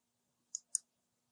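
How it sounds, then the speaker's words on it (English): Two quick, light computer mouse clicks, close and clean against near silence, on a web page icon. "Right now, we're going to click on the Find a Class icon"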